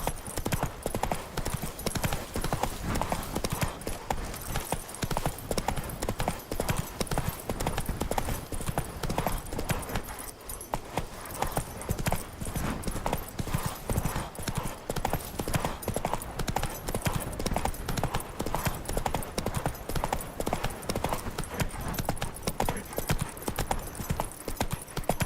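Roach, the horse from The Witcher 3, gallops with a continuous, loud, rapid clip-clop of hooves that holds steady for the whole stretch and dips briefly near the middle.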